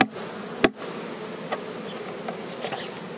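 Honey bees buzz steadily around an open beehive during a spring inspection, making a dense, continuous hum up close, with a sharp knock near the start and a few faint clicks of handling.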